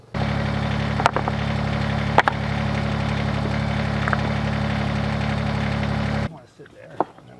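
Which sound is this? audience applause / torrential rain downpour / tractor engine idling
tractor engine idling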